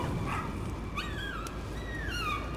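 In the horror game Layers of Fear, dogs give out several drawn-out, wavering whimpers over a steady low rumble. The whines are moderately quiet and spaced apart.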